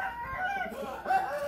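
A chicken, wrapped in a cloth to keep it still during treatment, clucks and squawks up close in short agitated calls, loud and alone for a moment.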